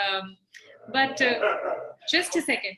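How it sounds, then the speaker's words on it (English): A pet dog in a room barks and yips a few times in quick, close bursts, mixed with a person speaking over it. "sorry, that was my dog."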